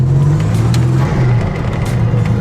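Buick Grand National engine running at a steady idle, a deep continuous low rumble close by with a slight throb and no talking.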